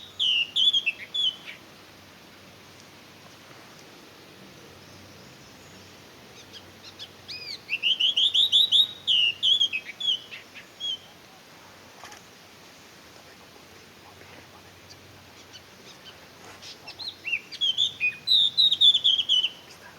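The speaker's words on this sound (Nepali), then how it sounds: "हजुरहरूलाई यो काँडे भ्याकुरको आवाज कतिको मन पर्यो, यसको गीत कतिको मिठो लाग्यो" A spiny babbler sings clear, whistled phrases in three separate bursts, at the start, in the middle and at the end, with quiet pauses between them.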